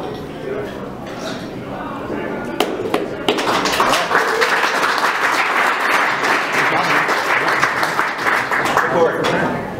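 An audience at a SecKC security meetup bursts into applause for speaker Jeff after his John the Ripper talk; scattered sounds and a few sharp claps give way to loud, sustained clapping from a room full of people.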